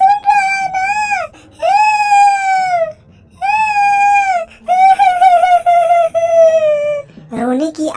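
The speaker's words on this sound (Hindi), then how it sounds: "उससे भी तेज रोने की आवाज सुनाई देने लग जाती है" An animated ghost-story character wails and sobs in loud, close, drawn-out crying cries in repeated phrases with short gaps between them, ending in a rising whimper.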